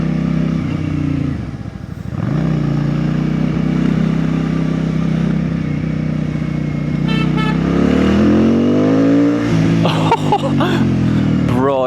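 A Benda 707 motorcycle pulls hard under acceleration in a power wheelie, the engine droning steadily and then climbing sharply in pitch near the end, with wind rush and a few brief clattering bursts, close to the rider.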